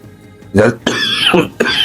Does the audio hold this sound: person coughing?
yes